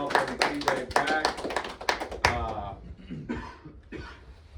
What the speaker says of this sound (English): So round of applause, welcome them,